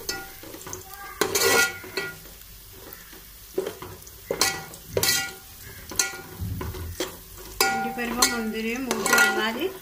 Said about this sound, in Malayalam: ഇനി നമുക്കിതിലേക്ക് അണ്ടിപ്പരിപ്പും മുരുകി ഇട്ടെടുക്കാം.